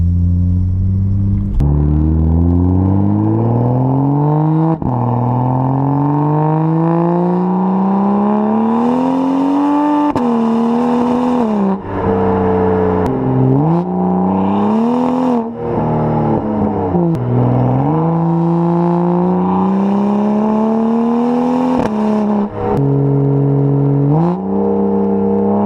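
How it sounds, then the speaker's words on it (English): A tuned 2011 BMW 135i with a turbocharged N54 engine roars while driving, revving up through gears in repeated rising sweeps with brief dips at shifts, loud and close, turbo whoosh between pulls. "The sound that this car makes is just such a smooth roar."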